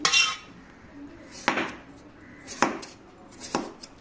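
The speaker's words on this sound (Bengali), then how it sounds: "পেঁপে না ধুয়ে কাটলে দেখুন আমি সুন্দর করে স্লাইস করে করে কেটে নিচ্ছি" Raw papaya sliced with a knife on a board: four sharp chopping thuds spaced about a second apart, close and fairly loud with faint scraping between them.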